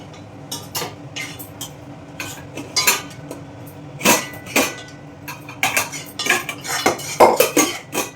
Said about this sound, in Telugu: స్టవ్ ఆపేసి నేను దీంట్లో తీసేసుకుంటా